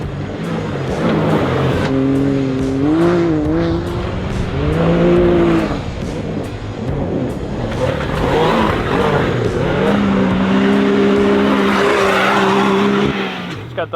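Can-Am side-by-side lapping a track, its engine revving and changing pitch up and down with tire noise, close and loud, while a person talks over it.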